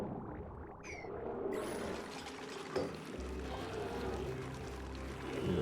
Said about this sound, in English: We can start to have water be dropped off inside this.